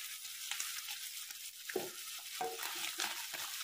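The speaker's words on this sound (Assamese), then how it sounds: "জুইটো অলপ কমাই লৈ পিনি যেতিয়ালৈকে মাংসটো অলপ ৰং ৰঙচুৱা হৈ যায় তেতিয়ালৈকে ভাজি খাওঁ" Pork pieces fry in a pan over lowered heat, a soft, steady sizzle with occasional stirring scrapes and clinks of a spoon against the pan, close by and fairly quiet.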